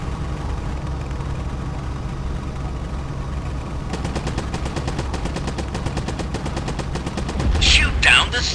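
Rapid machine gun fire from a fighter plane aimed at Heinkel 111 bombers in the War Dogs flight simulation game, a fast even burst of shots over a constant low engine drone, followed by a louder explosion-like whoosh at the end.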